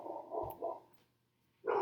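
A dog barks indoors in a couple of short, mid-loud bursts, goes quiet briefly, then barks again more sharply at the end, with no talk over it.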